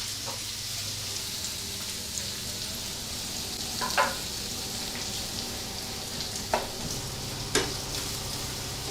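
Bacon frying in oil in a pan, a soft steady sizzle with a few sharp pops and spatters scattered through, fairly quiet and close with no voices.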